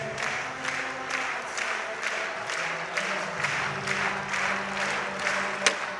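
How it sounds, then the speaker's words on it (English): A stadium crowd at an athletics meeting claps in a slow, even rhythm, roughly two beats a second, behind an Irish heptathlete's third high jump attempt at 1.86 m. The clapping is distant and builds steadily. "Crowd behind her."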